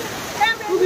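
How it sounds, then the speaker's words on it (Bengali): Dassam Falls near Ranchi gives a brief, steady rushing roar of falling water heard close by, with a voice speaking over it. "এই যে দশম ফলস রয়েছে"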